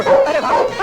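A dog barking in a comedy film scene, a short loud yapping burst close by, mixed with a shouted voice.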